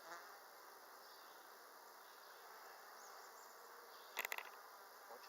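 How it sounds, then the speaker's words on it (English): Honey bees buzz steadily around hive frames as a new empty frame goes in, a soft continuous drone with a few brief knocks near the end. "Watch out, little bees. Watch out."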